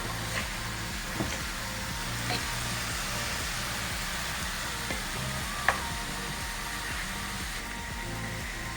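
Meat and onions sizzle steadily in a pan while cabbage stews for bigos, a continuous loud frying hiss with a few faint clinks and no talk.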